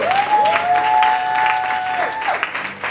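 A church congregation applauds with loud, dense, sustained clapping, joined by a long sung or shouted vocal tone over it for about two seconds before the clapping thins.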